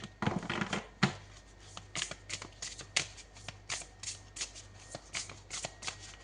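Tarot cards are shuffled and handled up close, giving a series of crisp riffling snaps and soft slaps that repeat in irregular bursts, with no talking.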